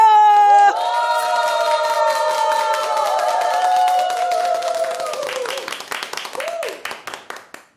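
Studio audience claps to welcome a guest singer onto a Korean senior TV music show, the sustained claps over music and tonal voices thinning to scattered, fading claps near the end.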